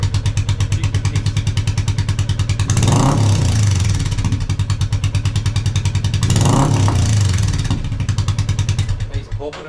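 Royal Enfield Classic 350 motorcycle with a free flow exhaust and baffle fitted, revving twice in loud surges over a steady thumping idle, close up, with exhaust popping between the revs.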